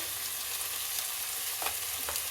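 Mixed vegetables frying in a pan for vegetable pulao give a steady close sizzle, with a few sharper stirring scrapes toward the end and no voices.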